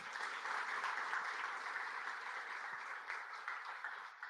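Audience at an education orientation gives a round of applause, a fairly faint, steady patter of many hands that eases slightly toward the end.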